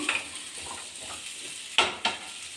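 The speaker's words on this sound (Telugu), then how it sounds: "ఇలా సిమ్లో పెట్టుకొని బాగా కలుపుకొని" Pumpkin and potato curry simmering on low heat in a village kitchen, a faint bubbling sizzle with two sharp spoon scrapes against the pan near the end, close and quiet with no voices.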